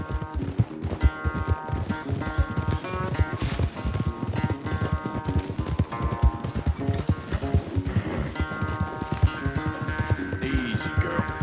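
Horses gallop in a race in the video game Red Dead Redemption 2, rapid, thudding hoofbeats pounding in a fast rhythm close by, with snorts and a whinny mixed into the running.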